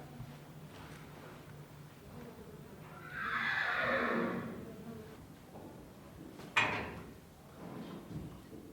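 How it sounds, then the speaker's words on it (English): Arabian horses in Kuwait let out one drawn-out falling whinny at moderate distance, followed by a sharp knock and quieter stirring in a calm stable setting. "Some of them are huge, beautiful looking horses."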